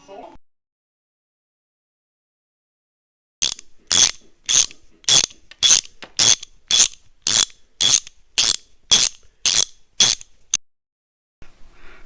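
A ratchet clicks through a rapid run of about fourteen evenly spaced, close, crisp strokes while old hardware comes off a small block Chevy engine, preceded and followed by brief silence.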